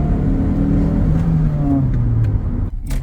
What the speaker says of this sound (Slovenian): mi bomo samo obrnili naš nov avto